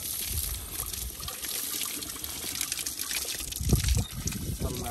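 Cold water runs from a pipe beside a village trail in the Nepali hills, a steady close splash with a continuous gushing hiss and a few soft low thumps as the stream hits below.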